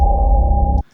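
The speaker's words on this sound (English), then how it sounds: "So it's this hum low dark drone." A low, dark droning hum holds steady for under a second, then cuts off abruptly into near silence.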